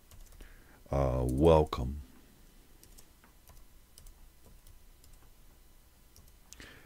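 Computer keyboard typed on while renaming a file: faint, quick key clicks run softly in the background after a single spoken word.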